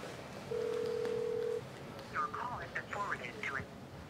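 A phone call is placed and goes straight to voicemail, with a single steady electronic tone of about a second followed by a faint recorded voice over the line, quiet room background.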